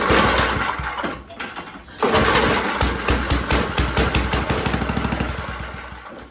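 A small engine runs with throttle applied, chugging in rapid uneven pulses, briefly stumbling and dropping off around the one-second mark before picking back up to a loud, buzzing run.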